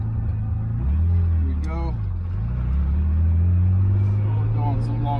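Low rumbling engine of an air-cooled 1973-89 G-body Porsche 911 idling and creeping into a garage, its pitch sliding down and back up, with a voice speaking briefly over it.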